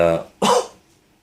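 A single harsh cough bursts out close by right after a short voiced sound, then fades into quiet.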